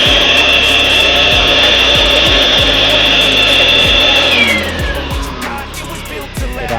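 Power sander working over wooden furniture in a furniture workshop, a loud steady whine running continuously with a high tone that drops and eases off near the end, while repeated low knocks sound underneath.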